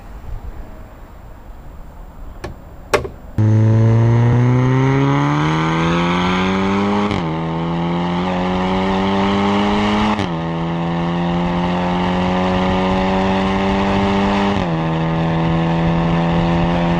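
A tuned 540 bhp VW Golf R engine revs hard from a click into loud, sustained acceleration, its pitch climbing then dropping at each of three quick gear changes, close and continuous with no talking.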